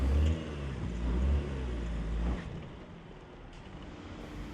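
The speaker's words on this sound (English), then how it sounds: "it actually does shut the traction control completely off and lets the wheels spin freely" A 2020 Toyota Highlander Hybrid off road with traction control off, wheels spinning on a climb: low engine and tyre rumble swelling in two surges, then easing to a quieter drone, no voices.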